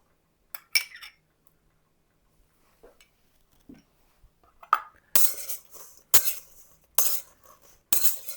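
Warm salad of eggplant and tomato with greens, chili, cheese, cilantro and sesame being tossed in a bowl: scattered faint clinks at first, then several loud, bursty rustling mixing strokes near the end.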